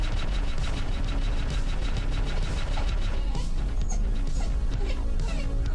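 Small dog barking and yipping in a home, a rapid run of sharp, close barks over background noise, fairly loud throughout.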